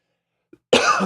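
A single harsh cough bursts out after near silence, close and loud, fading quickly.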